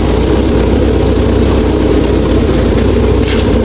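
A YuMZ tractor engine running just after starting, a loud, dense, continuous diesel rumble held steady for a few seconds at close range, with no talking.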